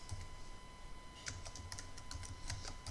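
Fingers type on a computer keyboard in short, irregular bursts of crisp key clicks, close and fairly quiet against a faint electrical hum, with no talking.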